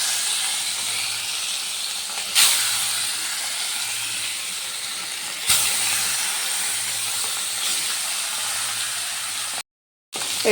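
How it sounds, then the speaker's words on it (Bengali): Pieces of katla fish spit and hiss in hot oil, a loud, even frying hiss heard close up, broken by two brief bursts as pieces drop in, and a short silent gap near the end. "তেলটা তো গরম হয়ে গেছে, এবার আমি মাছের পিসগুলো তেলে দিয়ে দিলাম।"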